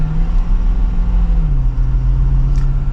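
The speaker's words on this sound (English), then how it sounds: "let's go ahead and get the SuperDuty out on the road. And we'll give it another acceleration." A 2023 Ford F250 SuperDuty XLT pickup truck accelerates on the road, a loud, steady low engine drone heard from inside the cab with a smooth shift in pitch partway through.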